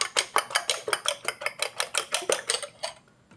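Eggs beaten in a bowl with a utensil, making about twenty quick, evenly spaced clinks that stop abruptly near the end.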